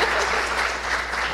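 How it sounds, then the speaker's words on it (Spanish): Audience applause at an evening music event, a dense, steady wash of many hands clapping throughout, moderately loud and without any talking. "Darle un aplauso adelantado, Gaby"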